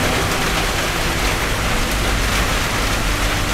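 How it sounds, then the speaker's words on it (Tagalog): Heavy rain pours down steadily in a loud, dense hiss that stays unbroken throughout with no other sounds. "Grabe yung lakas ng ulan ay"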